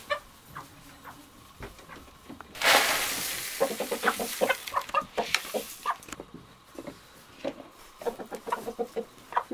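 Farmyard chickens being brought grain cluck in rapid, repeated bursts, several birds close by, after a loud rustling scoop of grain; clucking continues steadily throughout.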